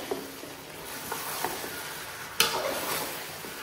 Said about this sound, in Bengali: এই ক্যাপসিকামগুলো এখন দিয়ে দিচ্ছি।